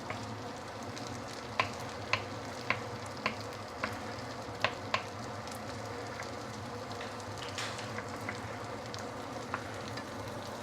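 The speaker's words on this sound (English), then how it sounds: "Let me give it a little bit of oil here. And I'm going to break an egg inside." An egg fries in oil in a pan beside char kuay tiaw noodles, giving a steady close sizzle with a string of sharp metallic taps from a spatula on the pan.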